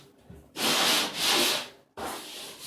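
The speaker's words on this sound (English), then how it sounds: "we're going to just run the sander over." A power sander runs over patched drywall to smooth it, in three loud bursts of broadband rubbing separated by brief pauses, with no talking.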